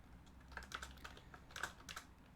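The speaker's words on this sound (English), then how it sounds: "I'm just typing, asking questions of chat, etc." Quick, irregular clatter of keys on a computer keyboard, faint and close, in short bursts of strokes with brief pauses between, no talking.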